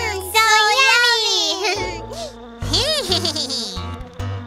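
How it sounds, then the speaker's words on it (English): A cartoon mosquito buzzes in a children's nursery-rhyme animation, a high whining drone mixed with bright musical tones and short bursts, close and fairly loud. "Oh no, it's a mosquito."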